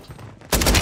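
Loud, rapid burst of shotgun fire in a first-person shooter game after a brief quieter lead-in, with the shots blurring into a dense volley up close.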